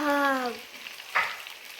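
Pepper chicken fries in a pan, giving a soft sizzle and a brief scrape of stirring. A short tonal sound opens the clip before the frying becomes clear, and no one speaks.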